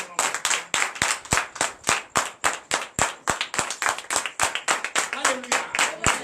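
A church congregation claps in a fast, loud, steady rhythm to acclaim Jesus, the claps sharp and close with some voices mixed in.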